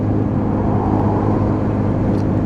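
Lexmoto ISCA motorcycle cruising at a steady 6,500 RPM around 42 mph, a constant droning engine hum with wind rush, even and unbroken throughout.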